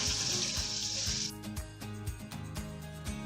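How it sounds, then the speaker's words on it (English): Freshly boiled eggs rinsed in a kitchen sink under cold running tap water, a steady close splashing rush, with light clinks and knocks of the eggs as the flow shifts partway through. "we're just going to rinse them in cold water. Give them a good bath with cold water."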